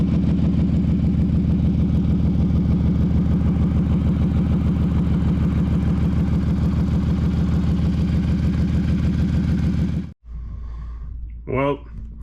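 A Ford Shogun engine runs steadily on a test drive after a coil pack fix, a loud, even drone with a low throbbing pulse, cutting off abruptly near the end with a brief vocal-like sound after.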